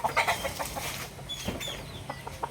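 Fighting roosters, gamecocks kept at a breeder's yard, cluck and call in short bursts, with a longer crow-like call midway, close and moderately loud over faint background noise.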